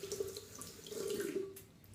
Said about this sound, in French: quand vous mouillez votre blaireau